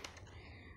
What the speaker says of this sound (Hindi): पूरा फुल्ली मैकेनिकल कीबोर्ड है ये